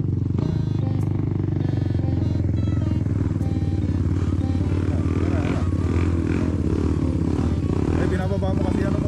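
An enduro motorcycle engine revs loudly and close, a rough growling roar that rises and falls, with people talking over it throughout.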